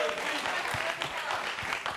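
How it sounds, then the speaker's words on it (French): Audience applause at a comedy show, a dense, steady patter of clapping lasting a couple of seconds with no pause. "Alors, applaudissez."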